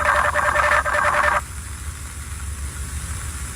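Robot dogs in a swarm signal to each other with a loud, pulsing electronic warble in short repeated bursts that cuts off abruptly, leaving a low mechanical rumble.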